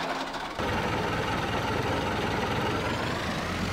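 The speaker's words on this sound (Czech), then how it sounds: "tady mám jeden traktor, tak ho vezmu a musím zajet nahoru" Tractor engine in Farming Simulator 22 starts up and runs steadily, a loud low rumbling drone with a constant idle-like throb, no talk over it.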